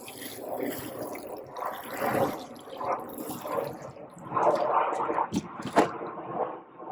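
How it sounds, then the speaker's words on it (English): Water poured onto freshly pricked-out seedlings in soil, a soft continuous splashing and trickling with occasional drips, fairly close and moderately quiet. "Let's water this in again."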